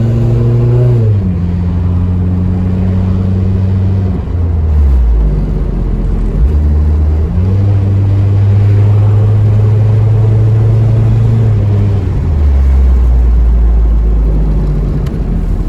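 A Mitsubishi Eclipse project car drives close by, its engine loud and droning as it rises and falls through several revs and shifts, with no talk over it.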